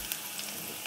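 Vegetables fry in a pan for Turkish menemen, a brief, fairly quiet and even sizzle with faint stirring scrapes.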